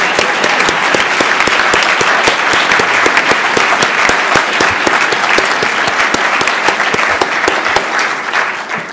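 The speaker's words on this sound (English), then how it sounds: "we should recognize that and we should applaud it." Loud, vigorous applause from an audience at a Federalist Society event, a dense crackle of many hands clapping steadily close by, easing slightly at the very end.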